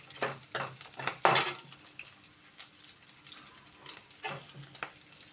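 A tempering sizzles while it fries in a pan, a soft continuous hiss broken by several sharp stirring scrapes and clatters, close by with no talking.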